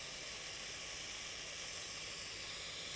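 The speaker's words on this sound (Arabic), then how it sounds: "لازم نديها تشويحة تبقى اللون الذهبي معانا" Vermicelli noodles sauté alone in a pan until golden, a steady, dense sizzle and hiss that holds evenly throughout with no voices.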